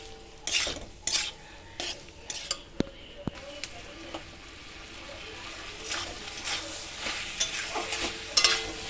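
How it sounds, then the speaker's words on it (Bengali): Masala for a vegetarian paneer curry stirred and sautéed in a pan, a spoon scraping and clinking against the metal in irregular strokes over a steady low sizzle, close and fairly loud. "এটা একটু ভালো করে কষিয়ে নিতে হবে"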